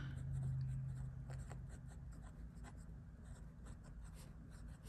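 A Pilot fountain pen inked with Iroshizuku Asa-gao scratches softly across paper in small strokes over a low steady hum.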